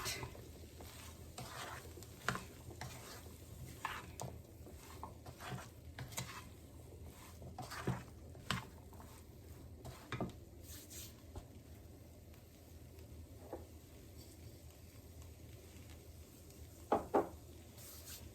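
Coconut powder is tossed and stirred in a pan, making a soft continuous scraping and sizzle with irregular clinks of utensil against metal, including a few sharper knocks near the end.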